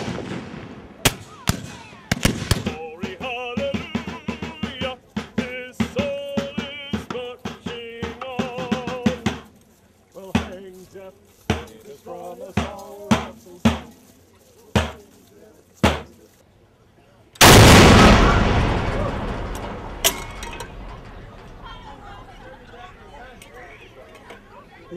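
A Civil War Parrott rifled cannon fires at an outdoor reenactment encampment, one huge close boom whose rumble dies away slowly, after a stretch of scattered sharp pops and knocks under talk.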